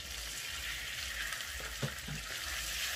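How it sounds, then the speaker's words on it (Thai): Pork with chopped garlic stir-fried in hot oil, a constant hissing sizzle with a couple of soft spatula scrapes, fairly quiet and close. "พอกระเทียมหอม เราก็ใส่หมูลงไปผัด"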